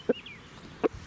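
A rooster gives three short, sharp clucks in quick succession, close and clear, with a faint high chirp from another bird between them and no talking.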